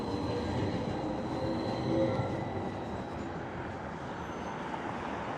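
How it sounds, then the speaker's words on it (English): A Q Line streetcar in Midtown Detroit rumbles past at moderate distance, its wheels squealing faintly over a continuous rolling clatter. "So here's another one of the trains right now."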